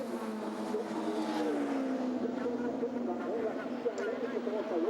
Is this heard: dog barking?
no